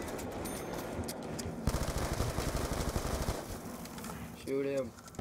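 Gunfire in the video game Call of Duty: Black Ops 2 comes as a rapid automatic burst that rattles steadily for about two seconds. A player's voice speaks briefly near the end.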